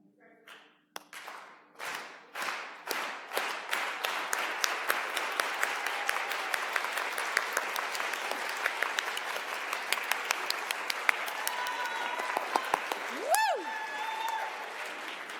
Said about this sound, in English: So we're going to do a clap, like that's an aplauso campesino